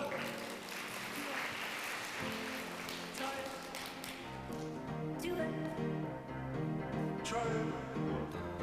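Audience applause welcoming a volunteer onto the stage at an illusionist's live show, a dense wash of clapping filling the room before music swells up beneath it and carries on.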